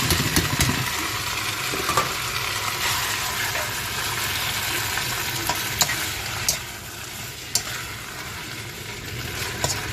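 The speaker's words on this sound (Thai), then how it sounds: "ป้าต้มเส้นใหญ่ก่อนค่ะ เพราะมันแข็ง แล้วก็จะมาผัดทีหลัง" Wide rice noodles, boiled first to soften them, are stir-fried in a pan, giving a steady loud sizzle with scattered scraping clicks from the utensil and a low rumble beneath.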